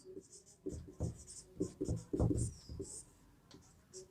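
A pen scratches out a Class 10 quadratic-equations maths solution in short bursts of strokes, close and clear, with brief pauses between groups of marks.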